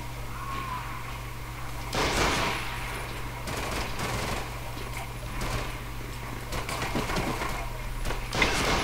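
Rifle fire crackles in Medal of Honor, a scattered series of sharp gunshots at irregular intervals over a steady low mechanical hum, moderately close with no speech.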